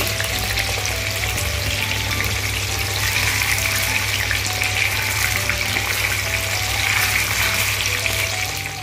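Chicken muithya dumplings sizzle steadily in hot oil, a dense continuous frying hiss that stays loud and even from start to finish with no voices over it.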